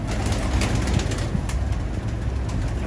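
Ferozpuri pigeons coo in a loft, their low throaty calls repeating in soft pulses close by over a constant background hum.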